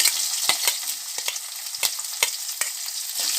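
Green chilies frying in a pan with tempering spices for poha upma, a steady close sizzle broken by sharp crackles and pops, with no one speaking.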